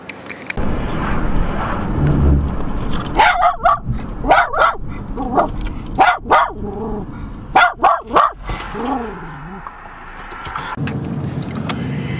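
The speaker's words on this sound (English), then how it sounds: "you can hear Chico enjoying the company of the cows" A dog barks repeatedly at cows beside a road, a run of sharp close barks with some yips, heard over a steady car engine and road hum with no talk.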